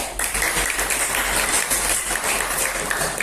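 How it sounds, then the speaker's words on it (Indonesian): A classroom of students gives a brief round of applause for classmates after a presentation, a close, busy patter of many hands clapping at once. "Tepuk tangan untuk teman kalian"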